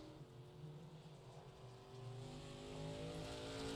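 Stock cars in an iRacing street stock race at South Boston, a steady droning engine tone from a car down the back straightaway, building slightly in loudness toward the end, with no talk.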